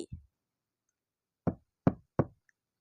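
Three firm knocks on a wooden door in quick succession after a brief pair of softer taps, close and clear against silence.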